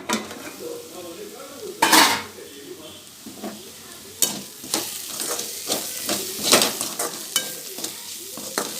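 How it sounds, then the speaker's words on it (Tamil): Masala sautéing with vegetables in a pan for a bread sandwich filling: repeated scraping strokes of a spatula against the pan over a soft sizzle, with a few sharp clanks, close and uneven in rhythm, no speech. "மசாலாலாம் கொஞ்சம் காயோட சேர்ந்து மிக்ஸ் ஆகி வதங்கட்டும்"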